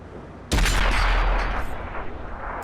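A tank cannon fires once in World of Tanks, the M41B Brazilian Bulldog on Xbox, as a single loud sudden blast followed by a rumbling, slowly fading tail.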